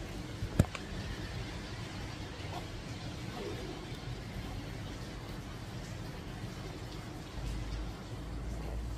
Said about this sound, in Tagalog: Kasi ngayon ayaw tumigil ang ulan.